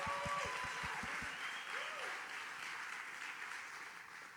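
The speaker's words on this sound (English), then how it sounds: "Round of applause." Audience applause at an NFL and host committee press event announcing the first Super Bowl in Las Vegas, a soft, diffuse wash of clapping heard at a distance with a few louder individual claps at the start.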